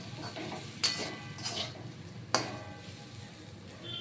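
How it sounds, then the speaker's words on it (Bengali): Oats being stirred in a pan, a quiet scraping with a few sharp metallic clinks of a utensil against the pan at irregular intervals, close and soft. "এক কাপ ওটস দিয়ে দিলাম হ্যাঁ ওটস দিয়ে এবার নেড়ে নেব"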